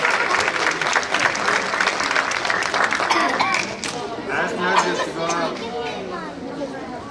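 Audience applause bursts out for a raffle winner at a birth celebration gathering, a dense steady clapping from a crowd with chatter and voices mixed in, fading slightly toward the end.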